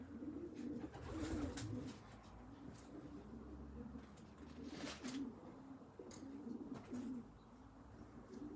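Pigeon cooing from a returning racing bird, one of which is injured with a damaged foot, with soft repeated coos and small chirps over a steady outdoor background.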